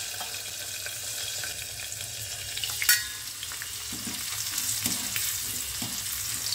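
Corn kernels frying in white oil in a covered pan on high flame, a steady dense sizzle with a sharp pop or clatter near the middle and faint crackles after.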